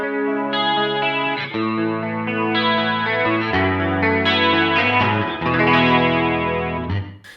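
Electric guitar run through several stacked chorus effects on a Line 6 HX Stomp plays shimmering sustained chords that shift every second or so, thick, warbling and slightly distorted, loud and alone for about seven seconds.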